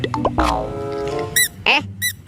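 A pink baby shark squeeze toy gives short bright squeaks near the end, two or three quick high chirps, following a stretch of speech and handling noise in a playful, close setting.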